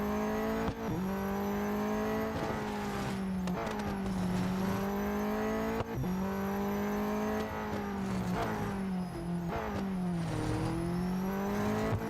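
A race car in Real Racing 3 drives over bumps and sand dunes in an autocross event, its engine droning steadily with shifting revs and gear changes and a few sharp jolts. It stays loud and close throughout, with no voices.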